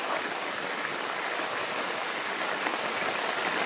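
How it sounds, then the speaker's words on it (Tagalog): Steady, dense rain pours down with a continuous broadband hiss, loud and unbroken throughout, with no voices. "lakas ang ulan"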